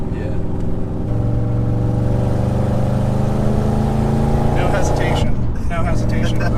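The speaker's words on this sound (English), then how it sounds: "the quarter throttle that I'm applying right now is about the same as what full throttle was previously" A B7 Audi S4 25th Anniversary Edition with a straight-piped exhaust drones loudly at steady part throttle, its engine note climbing as revs rise near the end, with a voice heard over it.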